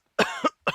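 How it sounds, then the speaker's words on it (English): A human cough sound effect of three short, sharp coughs in quick succession, close and isolated. "coughing,"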